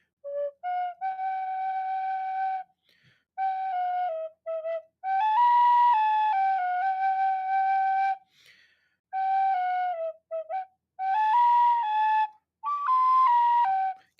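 A tin whistle playing a simple melody in clear sustained phrases separated by short pauses, bright and solo with no accompaniment or talk.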